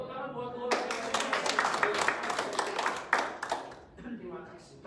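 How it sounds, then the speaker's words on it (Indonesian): A church congregation claps for God during a sermon-style service, a dense burst of hand claps starting suddenly and rolling on for several seconds, fairly close and steady with scattered sharper claps near the end. "Tepuk tangan buat Tuhan."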